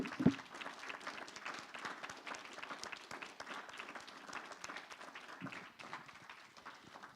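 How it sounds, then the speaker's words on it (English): Audience applause at a League of Women Voters candidate forum, faint, steady clapping from a small crowd heard at a distance, holding evenly throughout with a slight dip near the end. "let's give them a huge round of applause"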